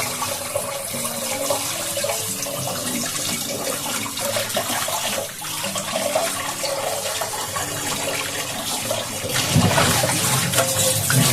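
Running water from a tap pours steadily over chow mein noodles being rinsed, a loud, continuous close splashing with faint handling sounds underneath, swelling slightly near the end.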